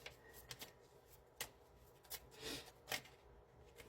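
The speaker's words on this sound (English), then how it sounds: "I'm going to give it a couple more shuffles" Cards are shuffled in short, crisp riffling bursts with soft pauses between them, quiet and close, with no talking.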